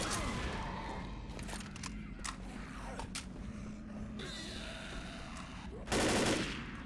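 An M16 rifle fires full auto in the Left 4 Dead video game, with several sharp bursts of rapid shots spread over the stretch and a louder, dense burst near the end.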